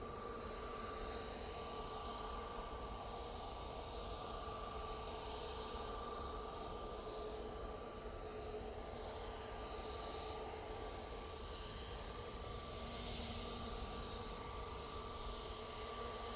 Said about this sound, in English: this is the Easyjet going off to Rome